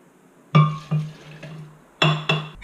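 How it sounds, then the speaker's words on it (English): Hot honey-sweetened tea poured into a blender jar for a non-dairy organic fruit smoothie, heard as a few distinct splashing pours with short pauses between them, close and fairly loud, with no talking. "We're going to pour this bad boy in there."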